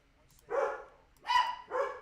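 Pet dogs at home let out three loud, close barks with short gaps between them, each bark bright and ringing.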